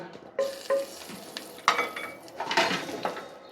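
Whole dried chillies frying in oil in a pan for a Bengali chicken kosha curry, with a steady sizzle, scattered clinks and scrapes of a stirring utensil against the pan, and a few sharper pops; no talk.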